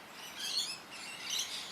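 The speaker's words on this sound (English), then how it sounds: "Look at our lorikeets, these noisy birds" Lorikeets feeding on nectar in a native Australian silky oak (Grevillea robusta) give two short bursts of high, thin chirping, moderately faint and a little distant against a quiet outdoor background.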